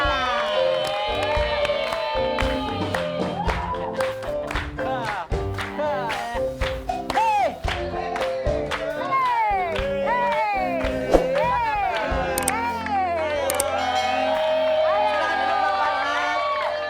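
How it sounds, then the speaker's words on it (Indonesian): A studio audience on an Indonesian television comedy show cheers and whoops steadily, with scattered clapping and a host talking over the crowd noise. "Tepuk tangan kali, nggak usah sedikit."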